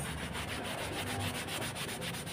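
A pan holding residue from freshly fried tilapia is scrubbed with a steady, rhythmic rubbing rasp, quiet and close, repeating strokes with no talking.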